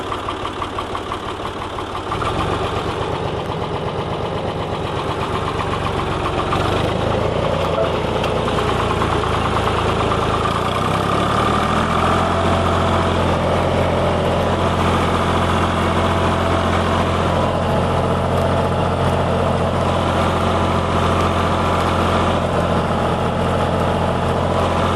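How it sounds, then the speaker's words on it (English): A small tractor engine runs close by with a steady, chugging mid-low drone, its pitch shifting as it settles and revs slightly in the first dozen seconds, then holding an even idle throughout. "I'm well pleased with the way this little tractor's been performing"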